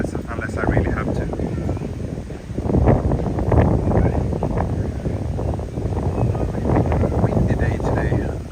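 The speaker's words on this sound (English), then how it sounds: "Windy day today" Wind on a windy morning walk in Komae, Tokyo buffets the microphone with steady, rumbling gusts that swell around the middle, while someone talks over it.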